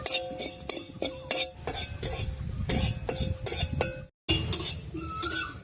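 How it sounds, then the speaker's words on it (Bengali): A metal spatula clinks and scrapes rhythmically against a pan while panch phoron spices are fried, sharp repeated taps over a soft background, with a brief silence near the end. "পাঁচফোড়নটা ভেজে নিয়েছি, এবারে নামিয়ে নিচ্ছি"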